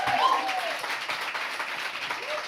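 A studio audience claps steadily for a guest on a French-language talk show, a dense, even burst of applause lasting the whole moment, with a voice speaking over it.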